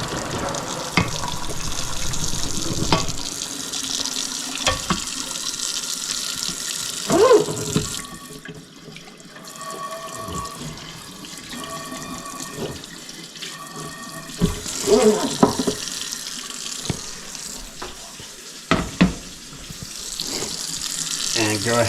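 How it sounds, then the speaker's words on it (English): Cold water runs steadily from a kitchen tap into a sink, a continuous splashing rush that swells and dips slightly as the stream hits the basin, with a few clinks and knocks along the way. "you do want to run some cold water into your sink"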